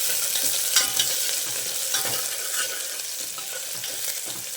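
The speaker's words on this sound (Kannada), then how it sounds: "ನೋಡಿ, ಈರುಳ್ಳಿ ಫ್ರೈ ಆಗಿದೆ" Chopped onion frying in oil inside a pressure cooker, a steady close sizzle with scattered crackles and occasional stirring scrapes, continuous and fairly loud with no voices.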